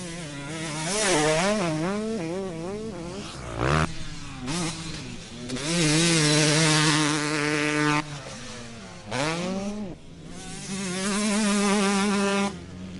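A 2012 KTM 250 two-stroke motocross bike laps a track, its high, buzzing engine note repeatedly climbing and dropping through gear changes and throttle bursts, loud and carrying over open ground.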